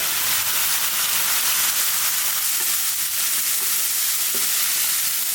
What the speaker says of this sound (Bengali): এখন মশলা কষানো হোক